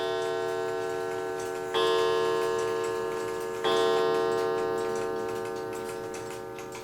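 A New England calendar clock, number 2710, ticks steadily and close after striking twelve, with two louder chime-like strikes ringing out and decaying under the even ticking.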